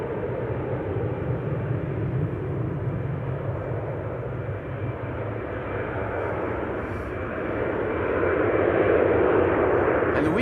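Jet airliner roaring past at Amsterdam Schiphol Airport, a broad steady engine rumble and whine that holds throughout and swells louder toward the end, heard from a spotting position at moderate distance.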